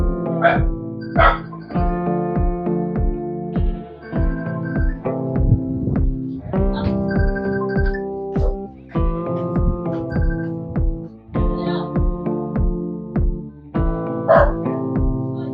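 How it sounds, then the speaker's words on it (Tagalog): A dog barks over and over in a steady, rhythmic series of loud, close barks that keeps going without a break. "medyo maingay yung ating aso mga tol"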